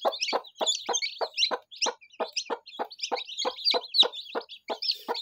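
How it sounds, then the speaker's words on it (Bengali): A hen with newly hatched chicks gives a steady run of short, evenly spaced clucks, close and clear, with faint higher chick peeps between them and no talking. "অনেকদিন পর মুরগির বাচ্চা ফুটালো"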